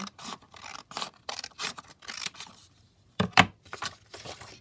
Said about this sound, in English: I'm just going to trim this piece down here